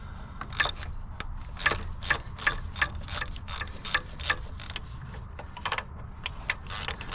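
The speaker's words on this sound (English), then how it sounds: "I typically like to use my hand ratchet" Hand ratchet loosening the vacuum pump bolts on a VW Tiguan, a close, crisp series of clicking strokes in an even back-and-forth rhythm, several bursts with short pauses.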